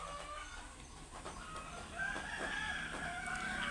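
Backyard chickens cluck and a rooster crows faintly in the distance, steady farmyard murmur with no talking.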